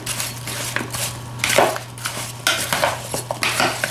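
Cut apples being tossed and mixed in a bowl, with irregular clinks and scraping clatter of a utensil against the dish over a low steady hum, close and fairly loud.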